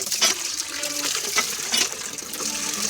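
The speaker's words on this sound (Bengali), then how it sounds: "জল ভরা হবে এবার" Tap water running into a bucket, a continuous splashing gush at close range with small bursts of louder pouring, no talk over it.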